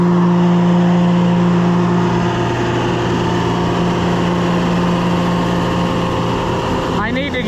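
A farm grinder mixer runs with its loadout auger, giving a loud, steady mechanical hum with a strong tonal whine that shifts briefly near the end, close and continuous throughout.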